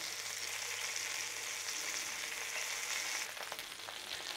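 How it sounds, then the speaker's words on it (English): Sirloin steak searing hard in a hot pan with its fat rendering, a loud, steady broadband sizzle that holds close and constant throughout, with a slight drop and some crackle near the end. "Now don't be frightened of holding it there as long as you want to render that fat down."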